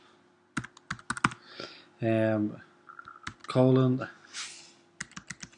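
Short bursts of close computer-keyboard typing, with distinct separate key presses, are interrupted by two brief stretches of a person speaking.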